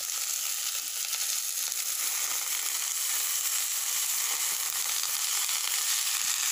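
Grated coconut sautéing lightly in a hot pan for coriander chutney, a steady close sizzle and crackle that holds evenly throughout, with no voices.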